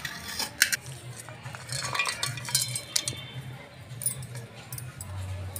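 Tomato and onion pieces plus cloves, ginger, cashews and spices tumble into a steel mixer jar in a home kitchen, giving soft repeated clinks and knocks against metal, with a low background hum.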